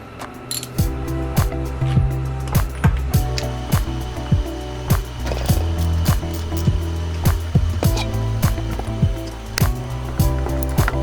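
A socket ratchet working an old oil pressure switch loose from a car engine gives a long run of sharp, closely spaced ratcheting clicks over a steady low hum, loud and near.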